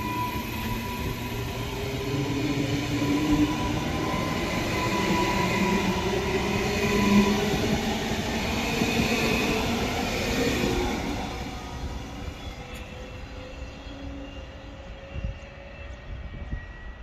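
A passenger train rumbles as it pulls away from Strathpine station, its steady roar and squealing wheels gradually fading into the distance.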